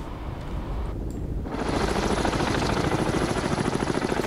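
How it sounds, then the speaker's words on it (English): Helicopter in the submarine game Cold Waters, a dense rapid rotor chop that swells into a loud steady thrum after a brief dip, heard close with no talk. "I think that helicopter is headed towards us."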